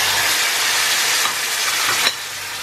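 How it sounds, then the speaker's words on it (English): Chopped tomatoes go into a sizzling onion and spice masala for a mince curry with peas and potatoes, giving a loud, broad hiss of steam and frying that surges briefly, then settles into a steady sizzle. "add in your chopped tomatoes"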